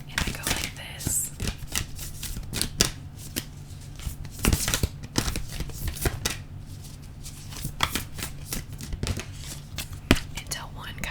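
Tarot cards shuffled by hand for ASMR, with rapid, close crisp riffles and flicks of card stock in irregular bursts, while a soft voice talks quietly underneath.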